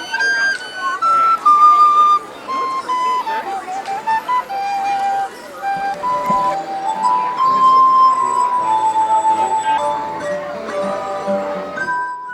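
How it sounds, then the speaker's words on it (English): A glass harmonium plays a bright, ringing melody of clear sustained glassy tones over shimmering overtones, loud and close, with no voices over it. "One of the festival's most unusual sounds comes from the glass harmonium."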